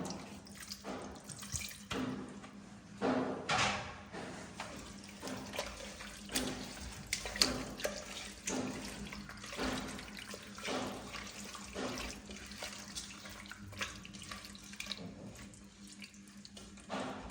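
Water goes into a pressure cooker holding meat for pulao, heard as faint, uneven splashes and trickling pours in repeated short bursts, with no speech.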